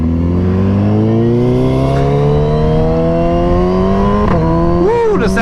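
A 2022 Suzuki Hayabusa motorcycle with a quick shifter and auto blip accelerates hard, its engine note climbing steadily and loudly, then dipping briefly at two quick gear shifts near the end.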